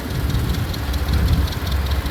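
A restored 1949 Massey Harris four-speed tractor with drawbar runs close by at a parade, its engine chugging in a steady low rumble with a faint knocking beat and no talk.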